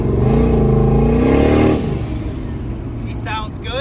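A turbocharged Chevrolet S10 with an 80mm turbo revs hard up close, the engine climbing loudly for a couple of seconds before dropping back to a rough idle, with a short turbo whistle near the end.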